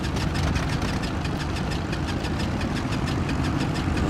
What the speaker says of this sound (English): The left engine is started